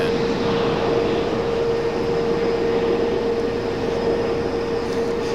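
Avelo Airlines airliner approaching Raleigh-Durham to land, a loud, steady engine roar with a sustained tonal whine throughout and no talk.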